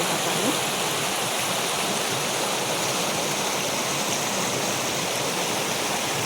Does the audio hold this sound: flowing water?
yes